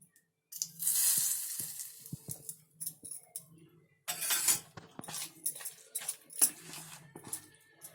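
Hot oil in a pan ready for frying bhaji, with bursts of sizzling broken by gaps and scattered clinks of a metal slotted spoon, close by with no talking.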